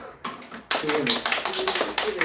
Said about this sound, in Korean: 우리 박수 한번 칠게요